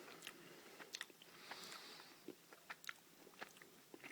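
Crisp, sharp crunches from biting into a Double Decker chocolate bar with crunchy cereal, several bites spaced irregularly, close up with no talking.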